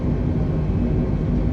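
Airliner engines spooled to full takeoff thrust on a short runway at Bankstown in Microsoft Flight Simulator 2020, a steady, loud, dense roar that holds unbroken throughout with no voices.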